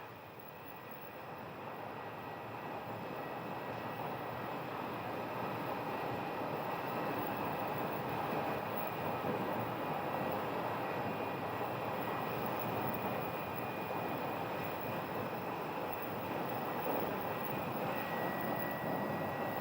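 An American Airlines Airbus A319 at Phoenix Sky Harbor airport, a steady broad jet engine roar close by that swells early and holds loud for the whole span, with no talk.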